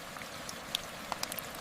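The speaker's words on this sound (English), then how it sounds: "It's still raining." Soft, steady rain hisses in the background, with faint scattered droplet ticks and crackles, calm and evenly spread.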